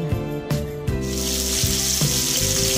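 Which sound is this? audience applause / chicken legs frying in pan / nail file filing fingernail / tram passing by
chicken legs frying in pan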